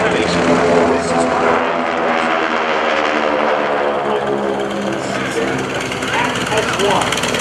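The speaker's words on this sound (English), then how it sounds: "Watch the GEICO Skytypers approach from behind you in a delta formation" GEICO Skytypers propeller airplanes fly over in delta formation at an airshow at Joint Base McGuire-Dix-Lakehurst in 2012, a loud, steady multi-engine drone held throughout, with an announcer talking over it.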